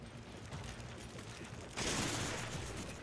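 Rapid gunfire rattles in the Resident Evil 5 video game: a continuous crackling burst that swells louder and brighter midway through the short stretch, with no voices over it.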